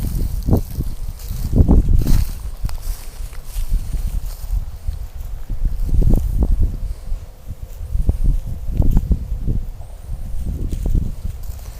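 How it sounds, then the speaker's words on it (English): Gusty wind blows straight into the microphone outdoors while walking with a beagle, making a deep, uneven buffeting rumble that swells and fades, with light rustling and steps underneath. "Wind's blowing right in our face right now."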